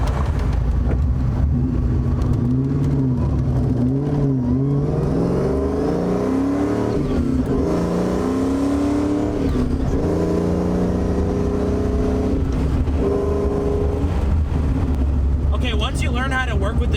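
A Cobra's engine revs hard and climbs through the gears, the pitch rising, dropping at each shift and rising again. The car is close and loud, and a voice talks over it briefly.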